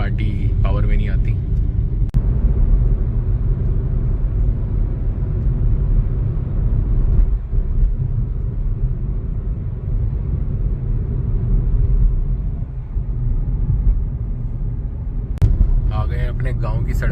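Road traffic on a single-lane village road near Ghaziabad, with passing cars and motorbikes making a steady, loud rumble of engines and tyres throughout. Brief sharper noises stand out near the start and the end.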